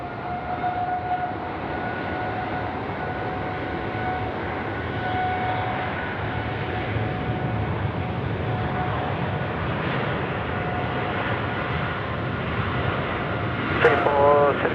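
Boeing 747 on short final to runway 16 right at Sydney Airport at night, a steady broad engine roar with whining tones under the hum of the surroundings, rising briefly near the end.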